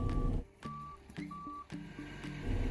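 A large gravel delivery truck reverses with a steady series of evenly spaced reversing beeps over its low diesel rumble, heard at moderate distance outdoors on a rural road site.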